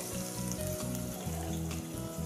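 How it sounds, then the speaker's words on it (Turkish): Steady, dense sizzling of chopped onion frying in hot olive oil in a pot, continuous and close with no talking. "Doğradığım soğanı tencerenin içine alıyorum ve orada pişirmeye başlayacağım."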